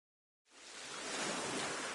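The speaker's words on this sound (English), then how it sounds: "you can hear the sound of the waves" Ocean waves wash in steady and full in a PS4 game, a broad hiss rising from silence after half a second and holding loud and constant with no distinct breaks.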